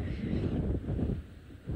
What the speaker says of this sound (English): It's so windy now, you can hear it